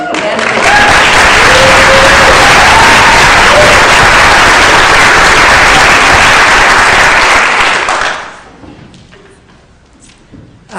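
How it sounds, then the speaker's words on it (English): A lecture audience gives a loud, dense round of applause for a dean that holds for about eight seconds, then quickly dies away to a quiet room. "I'd like a round of applause for the current dean"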